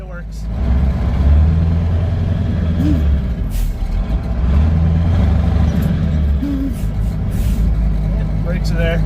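A medium-duty truck powered by a CAT 3208T turbo diesel engine rumbles steadily as it drives along, a loud low engine drone with cab rattles and shifting throughout.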